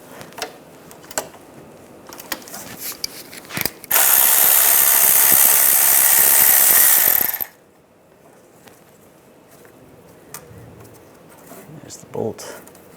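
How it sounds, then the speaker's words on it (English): A ratchet with a 13 mm socket removing a bracket bolt on a 1998-2010 Volkswagen Beetle power steering pump, a loud continuous rapid clicking run of a few seconds, close, with scattered clicks and handling noise around it. "Use a 13mm socket. Take the bolt off."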